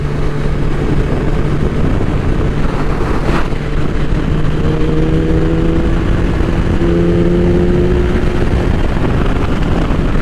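A 2000 Suzuki Hayabusa motorcycle is ridden hard in sixth gear, a loud steady engine roar mixed with rushing wind noise, its pitch holding and then rising slightly, close and continuous.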